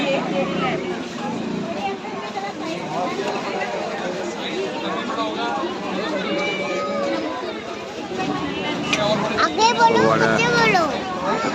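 Busy crowd murmur fills a market street in Haridwar, a steady babble of many voices and movement throughout, with a person talking over it nearby.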